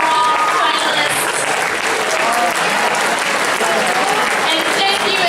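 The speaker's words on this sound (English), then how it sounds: "a big round of applause to all of our outstanding cultural finalists" Loud, sustained applause from an audience at the KUNA 2012 event honoring cultural finalists, a dense steady clapping that fills the whole stretch without a break.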